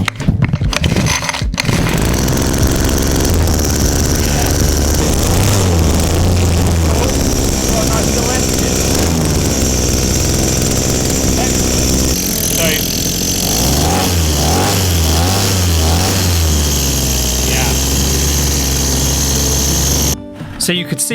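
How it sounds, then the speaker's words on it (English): A tiny model combustion engine with a centrifugal clutch runs loud and buzzing close by, its pitch climbing as the throttle opens and revolutions rise, with a voice talking over it. "So you could see when we apply the throttle and this has more revolutions, RPM"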